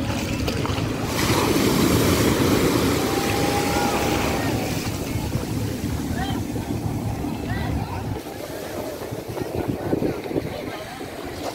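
Two-deck schooner cruising the sea at Arraial do Cabo, a steady rush of water and wind over the hull with a low engine drone, people talking nearby over the continuous wash.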